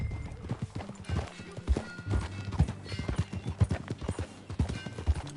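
A horse ridden in Red Dead Redemption 2, its hooves clip-clopping in a steady, uneven gallop rhythm up close, with a brief whinny mixed in and no one talking.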